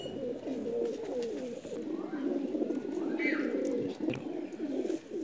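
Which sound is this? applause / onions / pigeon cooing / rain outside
pigeon cooing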